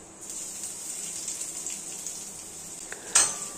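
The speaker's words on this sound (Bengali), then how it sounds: "গরম তেলে লঙ্কা কুচি দিয়ে দেব। এবার দেব রসুন কুচি।" Finely chopped green chilies and garlic hit hot oil for a dal and pointed-gourd curry, giving a faint steady sizzle close by, with a brief utensil clink near the end.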